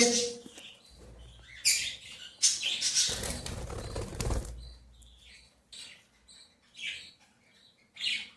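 Small birds chirp and tweet in short bursts, with a flurry of fluttering wings in the middle, close and fairly quiet.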